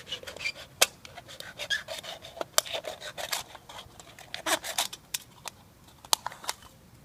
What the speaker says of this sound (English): Just cut a round edge around the can